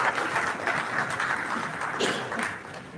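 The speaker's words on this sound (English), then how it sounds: "Please give him another reputational round of applause." Audience at the 1st Nigeria Reputation Summit applauding a minister, steady clapping from a crowd throughout, fading slightly at the end.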